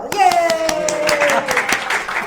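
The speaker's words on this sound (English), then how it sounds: "a big round of applause for Mr. Phil" A small audience claps and cheers for a man called Mr. Phil, a short burst of scattered hand claps under a loud voice calling out over the top.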